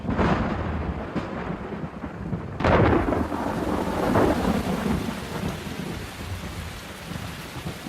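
Out on the grassland, a thunderstorm brings steady heavy rain and a loud, close crack of thunder with a rolling rumble that fades away.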